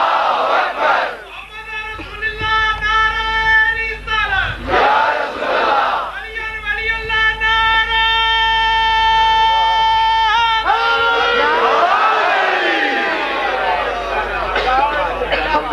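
A large crowd chants a religious slogan in unison at a gathering, with loud, sustained, repeated call-and-response bursts and some cheering between them.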